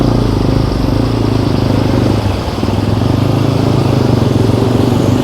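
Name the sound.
TVS MAX 125 custom scrambler motorcycle engine riding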